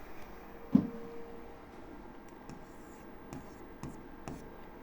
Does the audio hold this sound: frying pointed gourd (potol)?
no